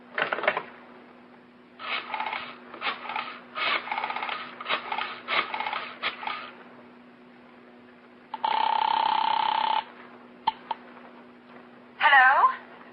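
A telephone is dialed with several quick bursts of clicks, then a single sustained ring rings out loud and close, followed by a short click and a voice briefly starting to speak.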